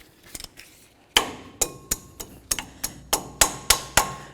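A hammer peens over a cotter pin on a ball joint nut on a 2004-08 Ford F-150, about a dozen sharp, ringing metallic strikes at a steady pace, close and alone after a few light taps.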